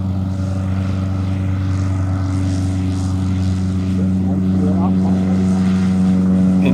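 A Beagle Airedale light propeller aircraft, freshly restored, droning steadily at a grass airfield at Headcorn as it takes off, loud and continuous with a strong low engine hum and rising pitch.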